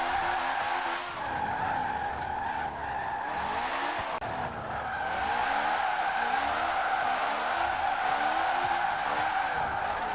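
A Citroën 2CV drifts on tarmac with long, sustained tire squeals over a buzzing small engine. The skidding runs continuously across the whole stretch and swells and dips as the car slides.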